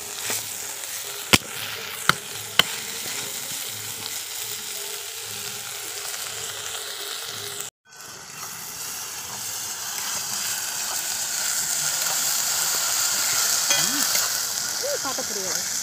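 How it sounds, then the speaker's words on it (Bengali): Onion stalks fry in a pan over a wood fire, giving a steady close sizzle and crackle across the whole stretch, with a few sharp knocks early on and a brief cut midway. "আমার ওই পেঁয়াজ কলিটা ভাজা হয়ে গেছে"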